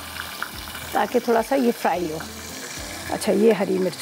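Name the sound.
green chilies frying in oil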